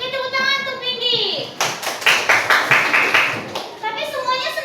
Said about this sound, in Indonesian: Oke, tepuk tangan untuk Vindi.